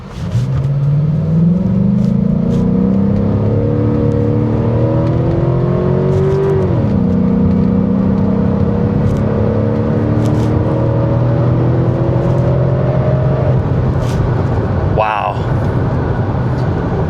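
A 2009 Cadillac DTS engine revs and accelerates, pitch climbing through gears then dropping and rising again, loud and close, with a sharp noise near the end.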